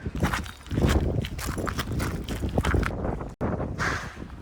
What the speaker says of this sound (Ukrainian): А це цивільні гуляють по вулиці.